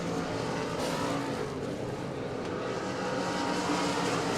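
Race cars roar around Devil's Bowl Speedway during the 48th Annual Spring Nationals, making a dense, continuous engine drone that stays loud and steady throughout, with no voice over it.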